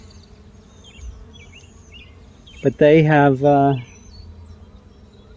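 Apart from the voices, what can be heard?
bees buzzing during 2024 eclipse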